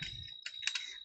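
Keys clicking in a short burst of typing on a computer keyboard, close and fairly quiet, with a steady high whine in the background.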